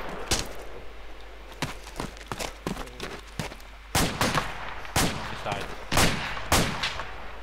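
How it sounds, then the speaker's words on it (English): Bursts of gunfire in the military video game Arma 2 ACE, several sharp reports spaced irregularly, some single shots and some short clusters, with no talk over them. "Where's that fire coming from?"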